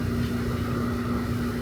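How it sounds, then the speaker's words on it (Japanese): A 50cc moped engine hums steadily while riding on a road in Kyushu, a constant close drone mixed with wind rush and no talking. "バイクで走ってると"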